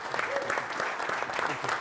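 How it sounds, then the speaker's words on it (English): Conference audience applauds its panelists, a brief burst of dense clapping from a moderate-sized crowd in a hall, even and sustained throughout. "Let's give a round of applause to these excellent panelists."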